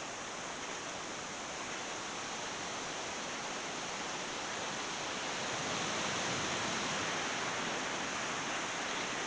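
Constant rushing water roars steadily without pause, a broad dense wash like a forest stream or waterfall heard up close among aspens.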